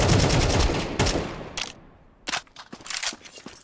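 Gunfire in a Counter-Strike 2 match: a dense opening burst of shots, then a gap and several sharp separate shots further on, all fairly close and loud with no talk over them.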